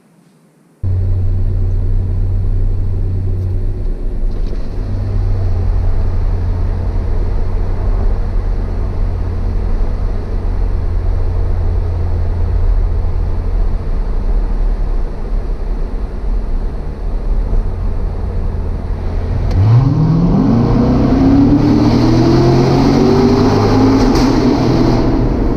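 A Corvette C7 Grand Sport with a Borla X-pipe exhaust drones loudly and steadily in a tunnel with a booming reverberant rumble, then revs up near the end into a rising, echoing howl.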